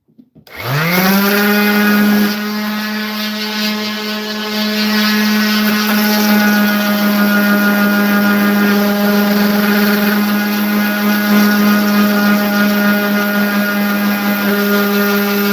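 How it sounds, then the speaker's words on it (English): An electric power sander runs on wood in a woodworking shop, giving a steady, loud, droning whine that starts abruptly and holds unbroken for a long stretch. "I'm going to get back to sanding."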